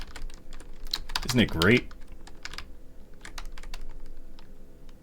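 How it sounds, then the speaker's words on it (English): Rapid typing on a computer keyboard clatters in quick bursts of sharp clicks throughout, fairly close, with a short spoken remark briefly over it partway through. "You can probably hear my computer, you could hear my typing."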